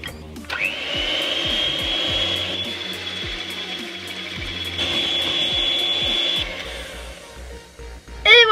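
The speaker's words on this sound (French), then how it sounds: "Et maintenant on va battre les blancs au mixeur pour obtenir des blancs en neige." An electric hand mixer whips egg whites to stiff peaks for a carrot cake, giving a loud sustained whir that rises and falls over several seconds with scraping against the bowl, no talking.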